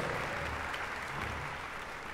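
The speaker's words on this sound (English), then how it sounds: "I think we ought to give our superintendent, Dr. Watlington, a great big round of applause" Applause from an audience in a room for a school superintendent at a high school music festival, a steady even patter of many hands held at a moderate level for the whole stretch.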